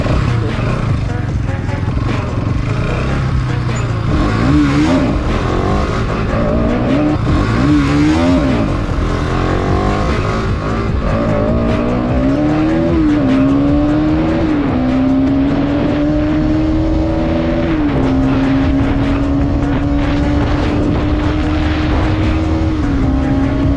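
A motorcycle ridden by a rider wearing a modified AGV helmet, its engine droning loudly and close, rising and falling in pitch as it revs and shifts, with steady wind and road noise throughout.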